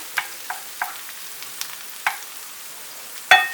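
Purslane being stirred in a frying pan, a soft sizzle under a handful of distinct spoon scrapes and clicks spread across a few seconds, close up and alone.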